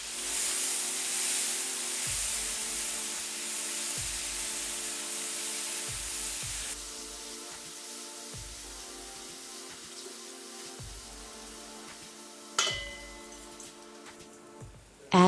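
Chopped mushrooms cook in oil in a pan for cream of mushroom soup, giving a steady, fairly loud sizzle and hiss with soft recurring low thumps that fades slightly toward the end before a brief sharper burst.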